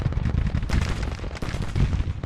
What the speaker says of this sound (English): I want all of this cannon fire